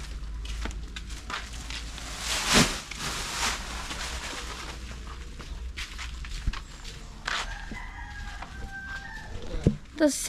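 Native chickens cluck in short, scattered bursts, with footsteps and light rustling. The birds sound quiet and a little distant.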